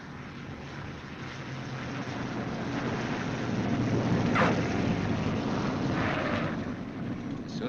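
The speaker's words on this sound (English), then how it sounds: "The B-29 lands at 90 to 110 miles an hour." A Boeing B-29 bomber comes in to land, its piston engines a broad, steady roar mixed with wind rush that swells to a peak midway and then eases off, with no talking.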